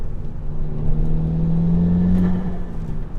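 A car fitted with an aftermarket intake while driving: a steady engine drone with a rushing whoosh that swells slightly under acceleration, close and continuous, with no talk.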